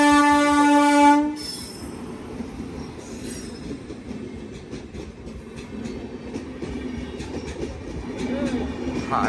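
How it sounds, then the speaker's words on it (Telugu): Sabarimala Express passenger train passing a railway line, opening with a loud, close horn blast, then a steady rumble and rattle of wagons rolling by for several seconds. "చూస్తున్నాం మనము ట్రైన్ వచ్చేసింది."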